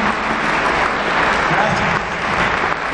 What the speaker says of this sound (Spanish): ¿Alguien le puede dar un aplauso al Señor y decirle gracias por tu palabra?